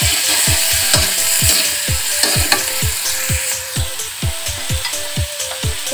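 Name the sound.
sautéing spices with bottle gourd stems in a pan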